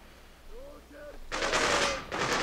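AK-47 automatic fire from the Freedom Fighters video game, a loud sustained burst that begins partway through, pauses briefly, then resumes, with a faint voice-like tone beforehand.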